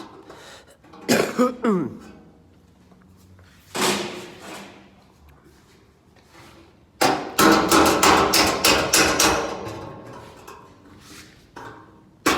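Sharp metallic strikes of a panel-beating hammer on a car body panel: a pair of blows, then one more, then a quick run of repeated ringing hits, loud and close with quiet gaps between.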